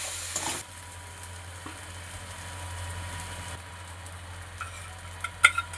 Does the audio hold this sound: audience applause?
no